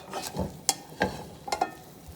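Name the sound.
omelet being flipped and frying in a pan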